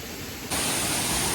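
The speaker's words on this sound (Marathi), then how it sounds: "हा वरच्या बाजूला हा धबधबा आणि वरतून तो वाहत येतो" A natural waterfall in the Konkan countryside pours down from above, giving a dense, steady rushing hiss that jumps noticeably louder after a brief quieter start.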